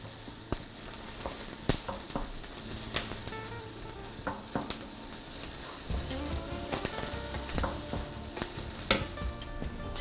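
Onions frying in a hot pot for a sausage tagine, a continuous sizzle broken by scattered sharp clinks and scrapes of stirring.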